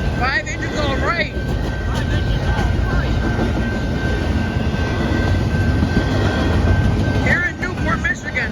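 A southbound Norfolk Southern intermodal freight train led by five engines rolls past a road crossing in Newport, Michigan, a loud continuous rumble of wheels and cars with horn-like tones near the start and end.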